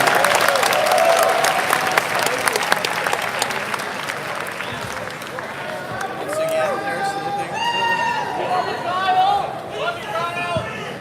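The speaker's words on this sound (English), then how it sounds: "let's give a big round of applause for Kyle and Charlie" Audience at the close of a debate at Politicon 2019 giving sustained applause, a broad wash of clapping and crowd noise, with voices and cheers rising over it in the second half.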